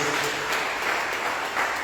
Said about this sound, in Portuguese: Quem pode dar uma salva de palmas para Jesus bem alegre?